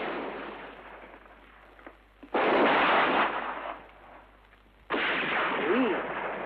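Two booming gunshots in a spaghetti western, each a loud, sustained blast with a rolling echo, separated by a few seconds of quieter rumbling ambience.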